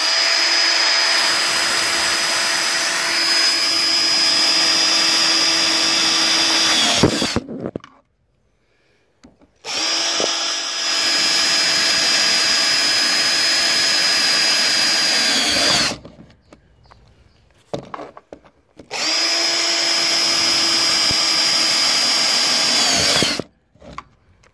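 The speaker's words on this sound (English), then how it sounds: "Holes are drilled through" Power drill boring holes through a large pipe for an underground well storage tank, three long steady whining bursts, each about seven seconds, split by short silent pauses, close and loud with no talk.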